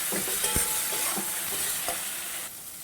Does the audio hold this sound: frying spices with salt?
yes